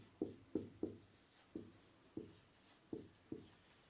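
Chalk or marker writes on a board in a quiet classroom, producing short distinct strokes, about eight taps and scrapes in an irregular rhythm, faint and close, with no voices.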